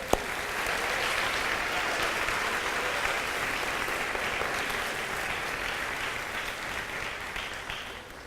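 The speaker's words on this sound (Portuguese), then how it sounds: "Vamos aplaudir ao Senhor." A church congregation applauds steadily for several seconds in a broad, even wash of clapping that stays at a constant level before tapering slightly at the end.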